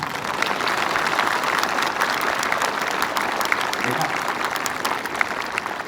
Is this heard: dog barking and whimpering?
no